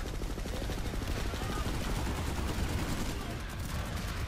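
Allied gunfire in the video game Planetside 2 rattles in a continuous, dense stream of rapid automatic shots, loud and steady throughout, with a faint voice underneath.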